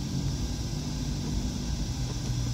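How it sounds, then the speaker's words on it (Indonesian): A Mitsubishi Xpander engine idles at 800 RPM with a low, steady, even rumble. It is faint and continuous, with no revving. "Ini kondisi RPM idle ya. Idle di 800."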